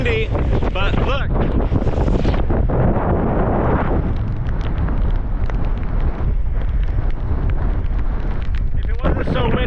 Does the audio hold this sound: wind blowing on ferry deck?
yes